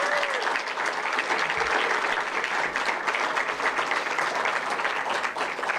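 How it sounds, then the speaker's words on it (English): Dense, steady audience applause fills a press conference room for the athletic staff at a men's basketball coach's introduction, loud and continuous from start to finish. "Would you give a round of applause for our athletic staff and the work that they do?"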